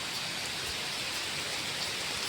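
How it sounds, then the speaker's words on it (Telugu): Heavy summer rain, with wind, pours down over a cashew orchard as a dense, steady, unbroken hiss with no voices. "చూడండి ఎంత వర్షం పడుతుందంటే"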